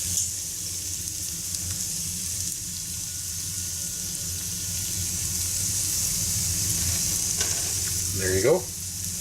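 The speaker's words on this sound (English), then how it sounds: "adding the livers to the pan, I'm just going to create a little space for them here" Chicken livers fry in a hot pan with a loud, steady sizzle that holds throughout, and a brief scrape sounds near the end.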